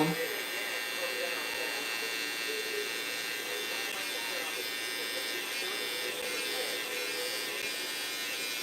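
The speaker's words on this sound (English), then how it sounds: "you want to make sure you're also angling your trimmer like this so it can be that perfect boxy, lineup shape" An electric hair trimmer buzzes steadily and close while cutting a sharp, boxy lineup, a continuous bright whine that holds its level throughout with speech mixed in.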